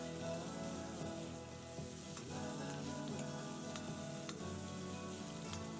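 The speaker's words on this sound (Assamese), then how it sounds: "এতিয়া জাষ্ট অলপ মই ফ্ৰাই কৰি লওঁ।" Chopped onions frying in oil with panch phoron five-spice for a fish and radish curry, a faint, low-level sizzle with light stirring taps under a tonal background hum.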